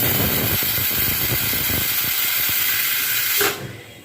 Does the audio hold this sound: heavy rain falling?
no